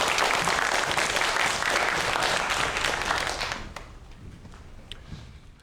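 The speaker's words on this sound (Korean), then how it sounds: "오늘의 강연 큰 박수로 청해볼게요." A dense, loud wave of audience applause welcomes a lecturer to an astronomy talk about galaxies, holding steady and then dropping sharply to a few scattered claps before quiet.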